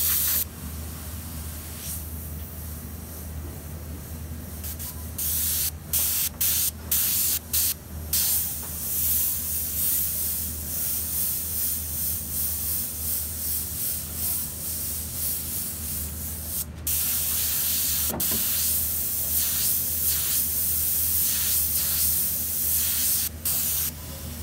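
Airbrush spraying paint onto a t-shirt, a steady close hiss that runs almost continuously, broken by several short pauses as the trigger is released and pressed again, with no talking.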